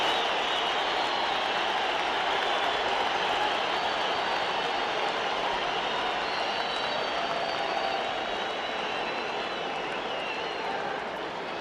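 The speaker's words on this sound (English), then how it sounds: "listen to this crowd at Madison Square Garden in New York" A huge boxing crowd roars continuously at Madison Square Garden in New York before the Ali–Frazier fight, a dense, loud, unbroken wash of cheering and applause.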